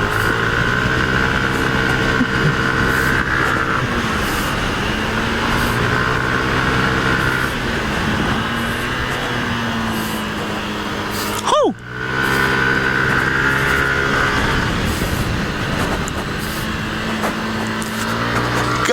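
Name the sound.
Yamaha Aerox scooter engine revving with turbo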